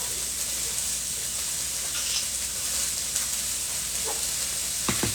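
Thin-cut bottom round beef sizzles steadily in a hot pan for stir-fried noodles, a constant close frying hiss, with a few light clicks of stirring near the end.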